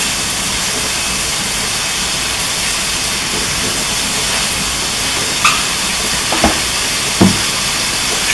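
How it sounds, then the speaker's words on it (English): Sausages frying in cooking oil in a pan on a stove, giving a loud, steady sizzling hiss that runs throughout, with a few small pops and clicks near the end. "So we gonna fry the sausages."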